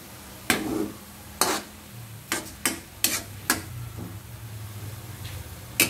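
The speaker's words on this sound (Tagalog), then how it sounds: "halo-haloin lang natin guys" Adobong kangkong being stirred in a pan, giving sharp scraping and clinking strokes at an irregular pace over a faint, steady sizzle.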